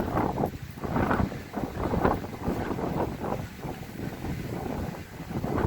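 Wind buffets the microphone in loud, uneven gusts, a continuous rumbling roar across the whole clip.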